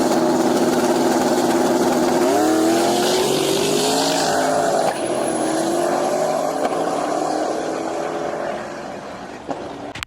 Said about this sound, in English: So this is the first pass.